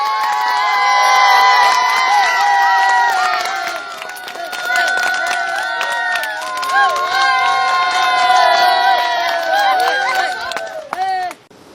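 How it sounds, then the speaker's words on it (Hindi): Studio audience of a Pakistani game show in KPK erupts in loud, sustained cheering, whooping and applause as a guest arrives, near and energetic, with a host's voice over the top before it cuts off. "तालियां।"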